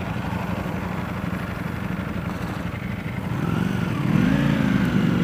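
A Ducati V4 Speciale motorcycle on its first ride hums with a steady engine drone and wind noise, rising into a louder rev toward the end.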